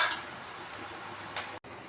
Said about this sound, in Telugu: ఆనియన్స్ కొంచెం బ్రౌన్ అవ్వాలి, గోల్డెన్ బ్రౌన్ కాకుండా లైట్గా ఫ్రై అవ్వాలి